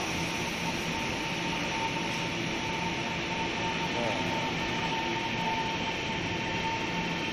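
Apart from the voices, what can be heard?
train arriving at Shulin Shanjia station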